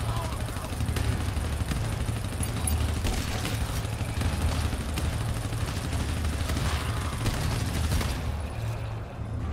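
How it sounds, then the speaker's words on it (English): Dense, continuous gunfire fills a firefight in the co-op shooter game GTFO. The volleys hold at a steady loud level throughout and thin out only near the end. "Somebody was fucking shooting me"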